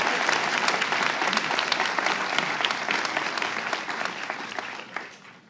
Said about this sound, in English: let us applaud for Ayush.